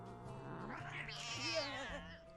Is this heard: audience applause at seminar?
no